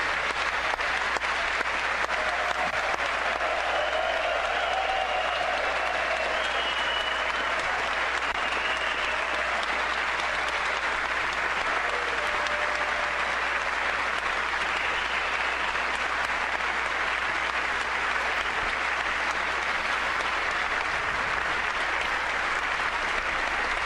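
Sustained applause from a large audience honoring a police officer at the 2019 State of the Union address, a dense, steady roar of many hands clapping that fills the hall for the whole stretch with no talk over it.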